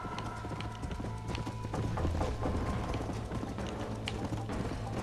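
A horse's hooves clip-clop at a steady riding pace in the video game Red Dead Redemption. The rapid, even hoofbeats run continuously at moderate loudness, with faint mechanical clicks mixed in.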